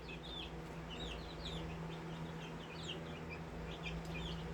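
Java hens cluck and chirp softly over a low steady hum, a busy flock heard at modest distance.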